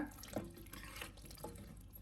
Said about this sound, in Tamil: நம்ம காய் மூழ்கிற அளவுக்கு தண்ணி ஊற்றினா போதும்